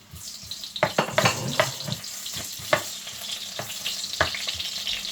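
Onions sizzle and crackle steadily in a hot pan for a sweet and sour dish, with sharp scraping stirs and clinks of a utensil against the pan breaking through the frying hiss.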